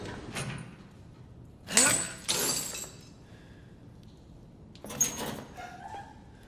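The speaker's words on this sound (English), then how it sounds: "I started to open the cell door to rescue Mia" Heavy metal cell door in Resident Evil 7 scraping and clanking open in a few loud bursts with short pauses between them, inside a quiet, echoing room.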